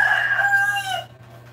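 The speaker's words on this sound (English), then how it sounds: "Hey, Rooster, you're so maingay." A rooster crows once, loud and close, a single drawn-out call lasting about a second before fading into a quiet background hum.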